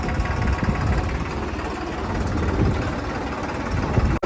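A 3630 tractor engine runs steadily on a farm road, a loud, close, rumbling drone throughout with no talking.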